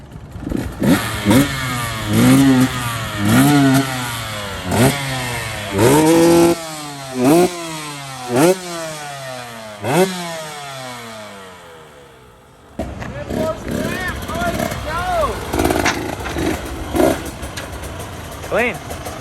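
A 2022 KTM dirt bike engine revs repeatedly in sharp, rising bursts close by, then settles into a rough, busy running sound while people talk over it.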